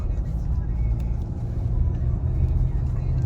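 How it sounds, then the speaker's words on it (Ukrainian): A Hyundai Santa Fe 2.2 CRDi diesel with automatic transmission and 4WD drones low and steady, rising slightly in strength as it accelerates, with a faint voice underneath. "Автомобіль набирає чітко."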